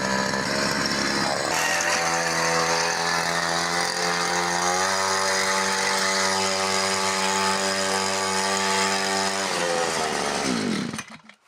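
Petrol brush cutter engine running after a fresh start, a loud, steady, high-pitched buzzing whine that holds for about ten seconds, then cuts off abruptly.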